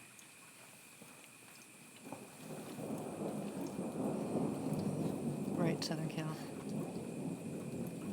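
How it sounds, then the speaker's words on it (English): Steady rain hiss with a low rumble of thunder swelling in after a couple of seconds, while people talk quietly nearby. "I love the sound of thunder."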